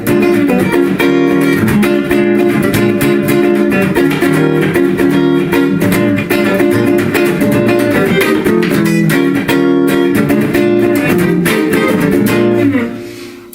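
A guitar plays a funky blues built on seventh and ninth chords, a steady rhythmic strum that is full and close, running continuously with no talking until it fades at the end.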